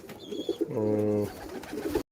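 Domestic pigeons coo close by in a brief, soft, throaty burst, with a few fainter calls around it.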